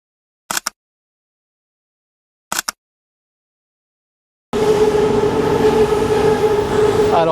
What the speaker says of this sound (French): C'est le bruit du métro aérien.